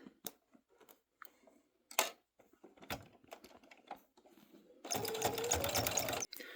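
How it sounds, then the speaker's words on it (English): A sewing machine stitches quilt binding around a wall hanging: a few scattered clicks and handling noises, then a steady, buzzing run of stitching for over a second before stopping. "I'm going to sew in just a few inches"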